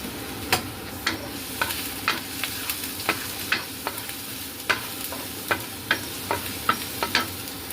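Garlic frying in hot oil for a crab and vegetable coconut-milk dish, a steady sizzle broken by sharp, regular clinks of a spatula against the pan, close and without talk.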